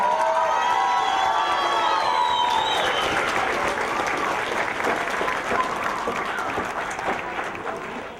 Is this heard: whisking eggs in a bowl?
no